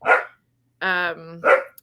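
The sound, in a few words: dog barking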